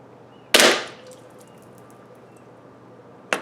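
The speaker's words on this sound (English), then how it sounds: "we'll be shooting it over an X-radar chronograph" Two sharp, loud shots from an EMG SAI BLU green gas airsoft pistol fired over a chronograph, spaced nearly three seconds apart, each a crisp pop with a short hissy tail.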